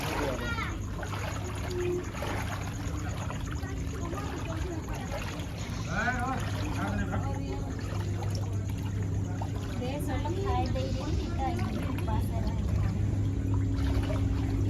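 Floodwater flows steadily into a house in Jhariabahal, Rourkela, with a continuous rushing, splashing wash heard close by while people talk over it.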